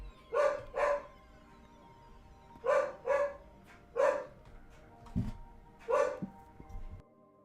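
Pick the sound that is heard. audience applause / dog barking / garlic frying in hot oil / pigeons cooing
dog barking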